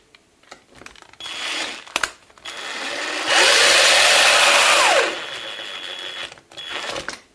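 A small power screwdriver whirs for a couple of seconds, driving screws that fasten Herpa Scenix diorama parts onto an airport base plate, with brief clicks and handling noise before and after.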